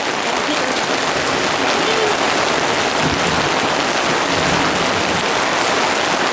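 Heavy summer thunder shower pouring rain, a dense continuous loud hiss of drops on surfaces, steady and close for the whole stretch.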